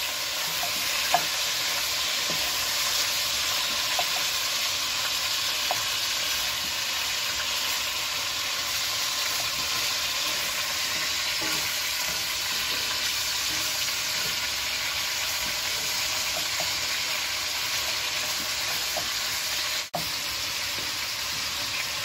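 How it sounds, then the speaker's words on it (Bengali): Half a kilo of mutton browning in a pan for Kashmiri rogan josh, a dense, even hissing sizzle that runs steadily throughout, with a few faint stirring clicks. "এই মাটনটা আমি এবার একটু ব্রাউন করে একটু কষিয়ে নিচ্ছি।"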